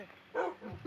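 A dog in the Minecraft video game gives a short muffled bark, faint and brief, with a little low noise after it.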